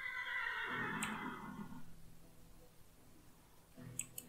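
Horse neighs from the Minecraft video game: a loud, close whinny rising and falling over about a second, then fading, with a faint second whinny starting near the end over soft game music.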